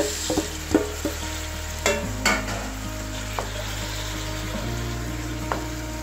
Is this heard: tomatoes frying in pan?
yes